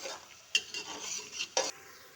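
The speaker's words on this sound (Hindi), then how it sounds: "और इसकी बुनाई करेंगे अच्छे से।" Chana daal with bottle gourd (lauki), garlic and onion is stirred and roasted in ghee, giving a few short spoon scrapes and soft sizzling bursts in a pan, close and alone.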